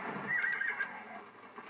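A horse in the Western video game Red Dead Redemption on Xbox 360 lets out a loud, close neigh that trails off into a few softer snorts and faint hoof clops, with no voices present.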